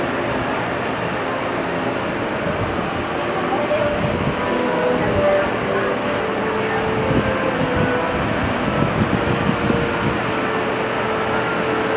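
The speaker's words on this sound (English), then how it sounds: "and now the train slides over." SeaWorld Orlando's Mako roller coaster train slides sideways on a transfer track, a steady mechanical rumble with faint high whine throughout, rising slightly mid-way, heard from nearby without talk.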